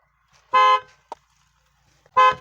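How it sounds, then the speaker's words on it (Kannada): Two short car horn honks from the steering-wheel button, loud and close, separated by a pause with a faint click between them. "ಸ್ಟೇರಿಂಗಲ್ಲೇ ಮಿಡ್ಲ್ ಒಂದು ಬಟನ್ ಇರುತ್ತೆ ಇದೇ ಹಾರ್ನ್"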